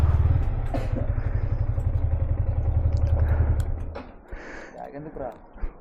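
A Yamaha R15 motorcycle engine idles with a low, steady rumble for several seconds, then cuts out, leaving clatter and handling noises; someone talks throughout.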